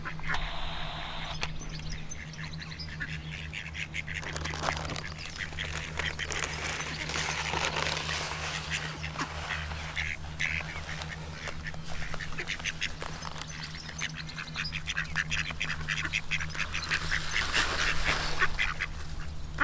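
Ducks quack over a steady low hum in a park, with a flock chattering continuously and growing busier toward the end.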